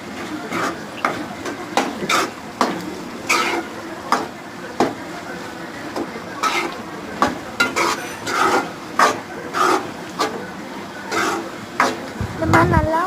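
Masala for kalan gravy is stirred and sautéed in a pan, a ladle scraping and clinking in uneven strokes over a steady sizzle, with a voice talking over it.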